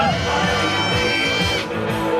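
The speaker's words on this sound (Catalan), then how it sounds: "aplaudiment per ells" A crowd cheers and applauds runners arriving at the finish of a 10 km race, a steady wash of clapping and shouts with a voice on a loudspeaker calling out over it.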